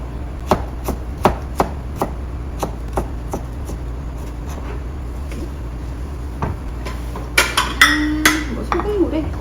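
A knife cuts vegetables into thin julienne strips on a cutting board for Korean japchae, a run of crisp, evenly spaced chops close by, then a pause and a few clattering knocks, with faint talk in the background.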